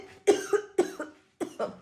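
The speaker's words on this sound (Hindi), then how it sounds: "एक तो मुझे खांसी लगी है" Several harsh coughs in quick pairs, close and loud, with short silent gaps between the bursts.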